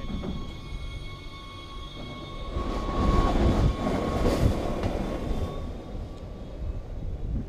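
A Wengernalpbahn rack railway train pulls into the small Wengwald request stop in the Swiss Alps, with a steady rumble of wheels and motor rising and swelling nearby, plus a faint high whine, and no talking.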